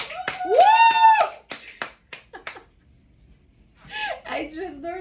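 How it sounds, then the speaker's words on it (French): Two people clap their hands, a thin and sparse run of sharp claps mixed with loud whooping voices, then a pause before people start talking. "Être juste deux, là, c'est pire que des applaudissements en canne."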